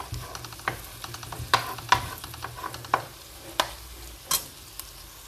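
A spatula scrapes and stirs cooked egg together with chicken, onion and capsicum in a frying pan, making irregular sharp scraping strokes over a soft, steady sizzle, close up and without talk.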